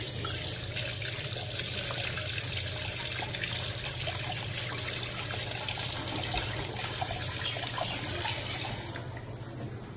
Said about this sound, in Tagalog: Siyempre, hugasan natin yung Indian mango.